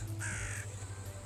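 Crows caw outdoors during a cosplay photoshoot, one harsh call standing out over a steady low rumble of background noise.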